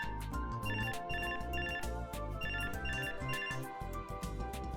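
A phone ringtone chimes in the Robotics;Notes Elite game, a bright looping melodic tone repeating steadily over a background music bed, with no voices.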